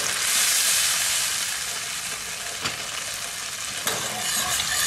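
Chicken broth poured into boiling chicken juice, giving a loud continuous hiss and sizzle up close, with a couple of soft knocks, no talk.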